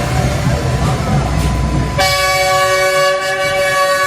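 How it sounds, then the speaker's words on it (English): A train in Costa Rica rumbles and clatters, then a loud sustained horn with bright tones sounds nearby as it begins pulling out of the station. "This train's pulling out, but I think that's just to pull back in."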